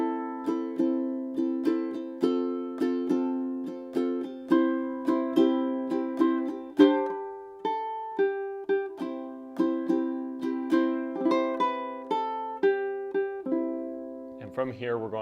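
Ukulele picks out a six-bar intro as a steady run of plucked notes and strummed chords, close and clear, with no voice until a brief rustle at the very end.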